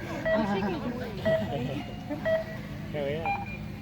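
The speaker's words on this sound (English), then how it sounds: "6 beeps, and that is the start time." A series of six short electronic start-timer beeps sounds at regular intervals, about one per second, over steady background engine noise and crowd murmur at a Red Bull Pump Track World Championship qualifier in Lowell, North Carolina.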